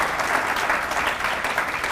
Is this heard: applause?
yes